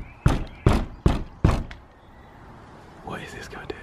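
Four heavy, evenly spaced thuds of someone banging hard on a door as if trying to bust it down, close and loud, followed by a brief voice afterward.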